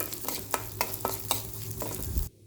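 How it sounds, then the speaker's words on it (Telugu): Split moong dal is being stirred and fried in ghee. A spoon scrapes the pan in about seven quick, rhythmic strokes over a soft, close sizzle, and the sound cuts off abruptly. "ఈ మిగిలిన నెయ్యిలో ఈ పెసరపప్పు కూడా వేసుకొని కొంచెం దూరగా వేపుకోవాలి"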